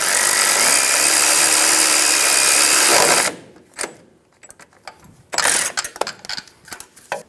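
A power tool whirs steadily for about three seconds while snugging the power steering line bracket bolt on a 2005-2015 Toyota Tacoma rack, then stops, followed by scattered close ratcheting clicks and metallic handling noises.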